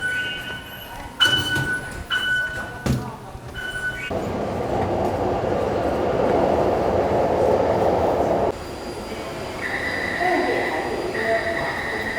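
A Taipei metro train rumbles along steadily with a low roar, preceded by a few beeps and chimes, then a rising tone as it runs.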